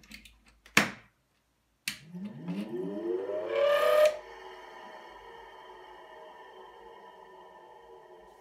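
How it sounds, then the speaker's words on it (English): An electric motor on a restored Micafil Swiss transformer winding machine is switched on. Two sharp clicks come first, then a rising whine as it spins up, followed by a steady, fairly quiet hum with no talk. "I've wired the motor now with a switch to be able to change the direction of the spinning."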